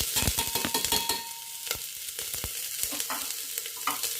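Onion fries in a pan with whole spices, a fairly faint steady sizzle broken by sharp pops and scraping stirring clicks, with no talk.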